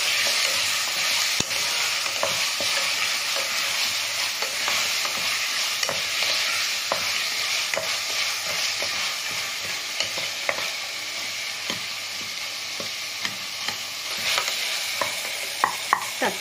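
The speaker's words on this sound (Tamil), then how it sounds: "தக்காளி வதங்கியாச்சு." Tomatoes sauté in a hot pan with a steady, loud sizzle, while a utensil scrapes and stirs in irregular clicks throughout, with no voices.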